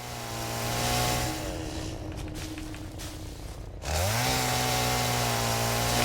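A chainsaw revs and whines while clearing ground in the video game Satisfactory, a steady droning engine tone that dips briefly, then rises again and holds loud and close, with no talking.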